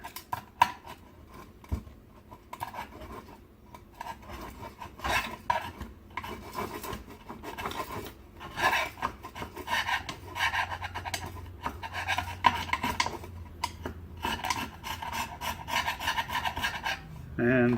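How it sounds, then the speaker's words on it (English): Hand scraper scraping glue paste off cast aluminum, a run of close, irregular rasping strokes that grow busier and louder toward the end, with no talking. "And scrape it right off."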